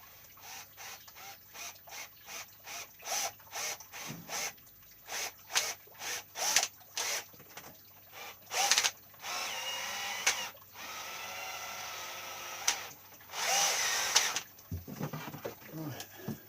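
A power drill bores into a wooden leg during garden repairs in a shed, first in a quick string of short trigger bursts, then in several longer whirring runs, all fairly close.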